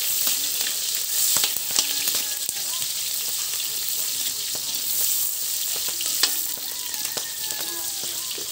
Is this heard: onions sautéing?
yes